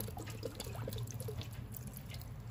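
Braising liquid pours into a pot of beef brisket as a soft, continuous trickle with a few small splashes and drips, quiet and close, over a low kitchen hum.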